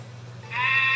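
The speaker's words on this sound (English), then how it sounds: "A goat in the middle of town." A goat bleats in the Twisted Wonderland video game, a single drawn-out, nasal cry rising clearly over a steady low background hum and lasting to the end.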